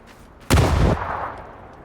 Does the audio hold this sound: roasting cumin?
no